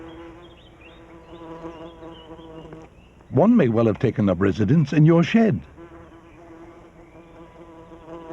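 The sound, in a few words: wasp buzzing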